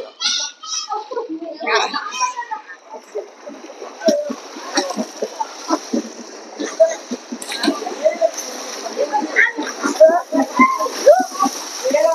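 Water splashes repeatedly and irregularly nearby in a swimming pool, with children's voices and chatter mixed throughout.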